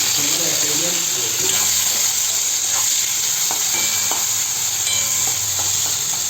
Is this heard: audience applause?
no